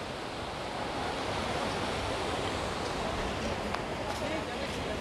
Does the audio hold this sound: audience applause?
no